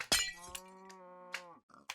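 A glass block breaks instantly in Minecraft with a sharp, bright shattering crack at the start, then a long, steady cow moo and a few faint clicks, all fairly quiet.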